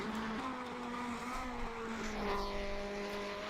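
1950s Grand Prix race cars turn practice laps at Napoli in a racing video game, their engines droning steadily at a distance, pitch rising and falling as several cars pass, with no voices.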